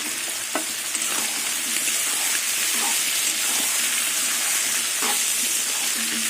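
Potatoes, onions and tomatoes frying in a pan alongside shrimp: a constant dense sizzle close by, with occasional soft scrapes and clicks of stirring, steady and uninterrupted.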